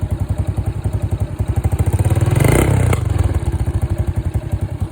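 A modified Yuki Gusto 125cc scooter engine runs with a rapid, pulsing exhaust beat and some backfire pops, swelling into a short rev midway before settling back to a steady idle.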